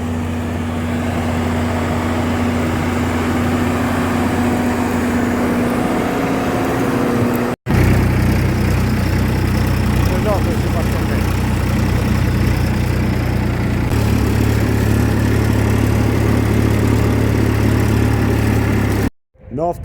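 A large tractor engine runs steadily through spring ploughing, with a continuous loud low drone whose pitch shifts partway through and two brief cutouts, and no talk over it.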